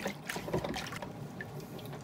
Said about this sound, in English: So I'm just rinsing it off with some fairly clean water